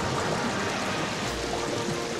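Steady running water pours from a faucet turned on in a Kingdom Hearts-style video game, a continuous broadband rush that stays even and fairly loud throughout without any talk over it.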